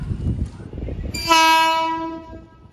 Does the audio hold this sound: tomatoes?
no